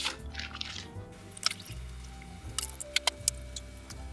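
Small water drips and splashes land in a whisky glass, a few distinct plinks scattered over a quiet, slightly noisy background.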